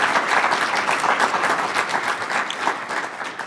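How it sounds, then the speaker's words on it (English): Steady, full audience applause for conference presenters, dense clapping that holds at an even level throughout with no voices on top. "let's give another round of applause to our presenters."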